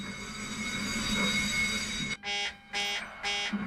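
Alarms going off in the video game Microsoft Flight Simulator: a steady droning hum, then three loud repeating electronic alarm bursts with short gaps, sounding close and alone, with no speech.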